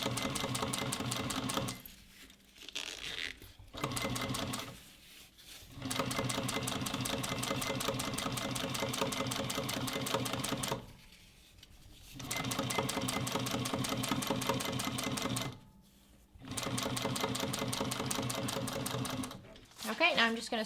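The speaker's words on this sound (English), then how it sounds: "So I'm just going to top stitch this at about 1/8 of an inch seam allowance." A Juki sewing machine top stitches a bucket bag with a long stitch length, running in several long, steady rattling bursts separated by brief pauses.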